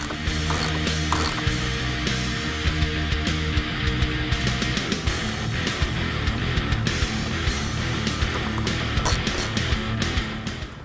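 A hand ratchet removes two 10mm bolts from the top of a Ford F-150 headlight, giving repeated close clicking pawl ratchets in short bursts with small metallic taps and pauses between strokes.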